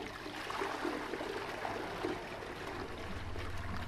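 A toilet flushing in a horror video game gives a steady rush of running, gurgling water, close and even throughout, with no voices over it.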